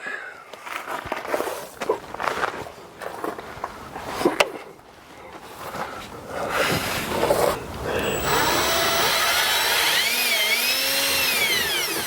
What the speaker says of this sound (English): So I'm going to go ahead and drill that pilot hole